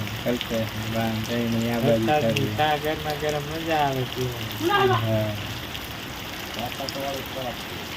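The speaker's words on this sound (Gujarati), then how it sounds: "વરસાદ તો એક ધારો ચાલુ છે" Steady evening rain falls continuously in Botad village, a soft constant patter beneath a voice talking through most of it.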